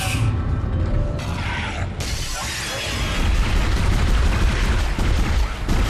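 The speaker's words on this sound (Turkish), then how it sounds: "Yük asansörü. Bu bir yere gidiyor." Freight elevator rising in the video game Dead Space (2008), a loud, continuous grinding and clanking mechanical rumble with metallic creaks and a sharp jolt near the start, no voices.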